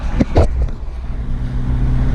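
Honda Civic Type R FL5 fitted with a Hondata Flash Pro, heard from inside while driving as a steady low engine drone with road noise, a couple of brief bumps near the start.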